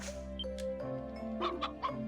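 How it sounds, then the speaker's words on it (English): Chickens cluck in the video game Ys: Memories of Celceta, three short, quick clucks in a row set against a soft, steady musical background. "Hey, chickens!"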